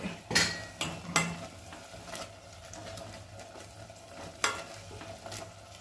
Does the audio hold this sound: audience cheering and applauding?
no